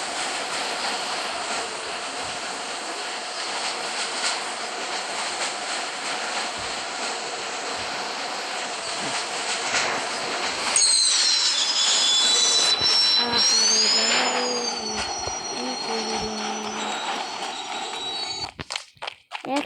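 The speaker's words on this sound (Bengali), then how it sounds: "একশো থেকে 150 কিলোমিটার স্পিডের ট্রেন, হাই স্পিডের ট্রেন" A high-speed train in the video game Indian Bike Driving 3D roars past in a loud, continuous rush, with a rising tonal horn-like whine midway before the noise breaks up near the end.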